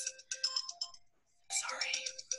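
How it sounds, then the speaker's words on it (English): A mobile phone ringtone chirps in quick bursts of bright tones, pausing briefly before a fuller, louder burst of ringing; it sounds fairly close and plays alone. "my daughter's phone is going off like bananas"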